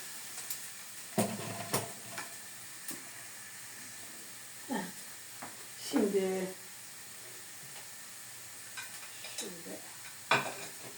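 Food for menemen sizzling and roasting in a frying pan, a steady soft hiss with scattered stirring scrapes and clinks, fairly quiet, with occasional faint speech-like sounds in between.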